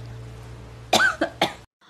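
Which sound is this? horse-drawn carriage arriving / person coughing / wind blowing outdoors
person coughing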